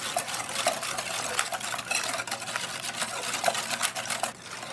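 Blueberry muffin batter with egg stirred in a bowl, giving a continuous wet scraping and sloshing with rhythmic utensil strokes, close and steady, no talking.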